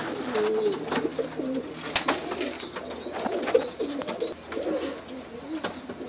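Pigeons coo in a loft, soft repeated throaty calls close by with faint chirps and occasional wing flutters around them.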